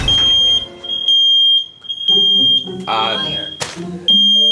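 A smoke or fire alarm shrills loud and close in a steady high-pitched tone, while people talk and shout over it.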